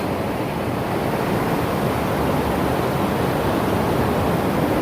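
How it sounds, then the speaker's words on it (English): A steady, full rush of water from a waterfall spilling out of a creek culvert, close and continuous with no breaks or voices. "And there's another culvert with a waterfall."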